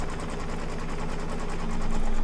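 An embroidery sewing machine stitches an in-the-hoop quilt block with a steady, continuous mechanical whir and rapid needle pulsing, close and fairly loud, growing slightly louder toward the end with no talking.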